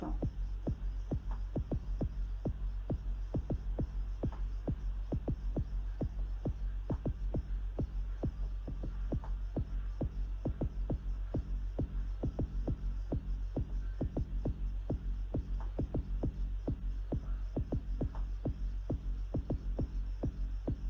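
Deep, throbbing acid trance bass synth pulsing in a steady rhythmic pattern, loud and continuous with a droning hum underneath and no voices.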